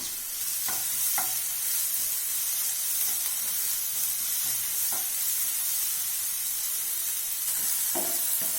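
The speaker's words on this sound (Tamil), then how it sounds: "தக்காளியும் ஒரு நிமிஷம் நல்லா வதங்கட்டும்" Chopped tomato sautés in a hot pan, a steady broadband sizzle running throughout, with occasional brief scrapes and stirring clicks up close and no talking.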